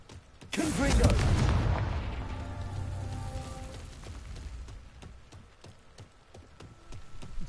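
A Confringo fire spell explodes in Hogwarts Legacy with one loud, deep boom that rumbles and fades over several seconds, followed by scattered sharp crackles and pops.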